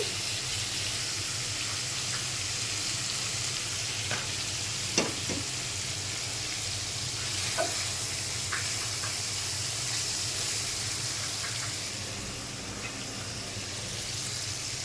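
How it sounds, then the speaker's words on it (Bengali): Hilsa fish frying in fried onion paste in a pan gives a dense, continuous close sizzle, with a few faint clicks and scrapes of stirring over the steady hiss and no speech. "পেঁয়াজ বাটা ভাজা হয়ে গেছে। এখন মাছ দিয়ে দিলাম।"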